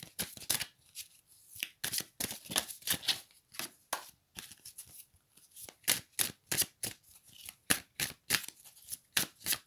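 Oracle cards being shuffled by hand, a close, quiet run of crisp riffling bursts in an uneven, steady rhythm with short pauses between, no talking.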